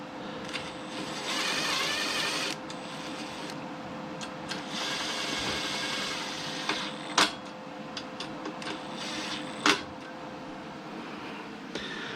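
Welding at a fender mount tube on a car build: a steady, dense electric crackle and buzz runs for several seconds, pauses, then resumes, with a few sharp louder pops near the end.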